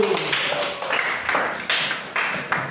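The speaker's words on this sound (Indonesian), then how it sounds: "tepuk tangan untuk Wahyu" Classroom applause from a third-grade elementary class, a loose burst of hand claps with uneven taps and thumps, fairly close and filling the short stretch on its own without talk.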